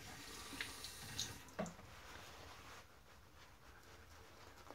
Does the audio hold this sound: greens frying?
no